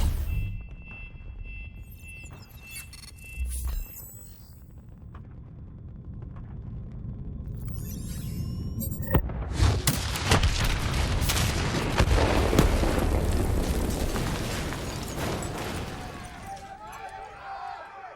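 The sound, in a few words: explosion after detonation in video game Call of Duty Black Ops III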